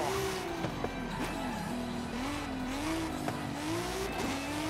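A car drifting in the Forza Horizon 5 video game, a sustained wavering tire squeal over a steady engine drone, loud and close with small bumps and no talking.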